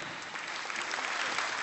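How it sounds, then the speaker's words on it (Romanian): A crowd at an anniversary folk celebration breaks into loud, sustained applause for young performers, a thick continuous roar of clapping. "Aplauze și mai mari!"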